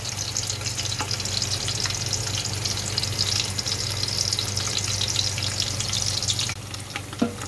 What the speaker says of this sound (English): Now we added the tomato paste and mix it with the oil